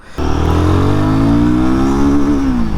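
Royal Enfield Guerrilla 450 motorcycle engine, the Himalayan-derived unit, pulling hard as it accelerates through the gears, a loud, close, steady roar whose pitch climbs smoothly after a sudden start, with no voices.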